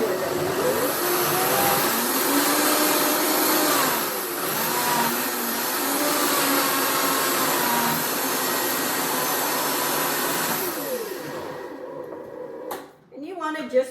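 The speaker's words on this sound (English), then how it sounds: "And you want to just puree until it's smooth." A blender purees persimmons into a smooth jam base, whirring loudly and steadily with a shifting pitch for about eleven seconds before cutting off, followed by a few brief clunks.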